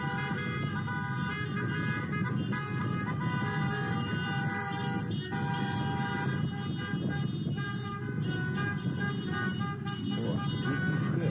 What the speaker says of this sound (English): What are they honking about exactly?